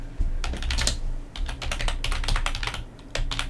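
A password is typed on a computer keyboard in quick, uneven bursts of crisp key clicks, close and clear with short pauses between runs of keystrokes.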